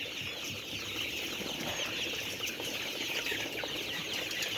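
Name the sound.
chickens clucking and flapping at a farm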